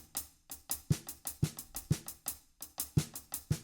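Drum kit playing a steady triplet groove with soft snare ghost notes between heavier snare and bass drum hits, quiet and close in an even repeating rhythm, with no talking.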